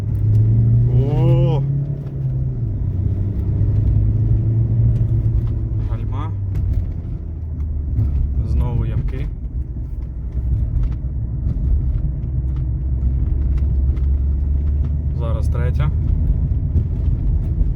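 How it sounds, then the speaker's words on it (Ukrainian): A 2011 Ford Kuga with 69,000 km pulls away and accelerates on a pothole-strewn road, a steady engine rumble throughout while someone talks over it and the car jolts over bumps. "Машина чудово розганяється."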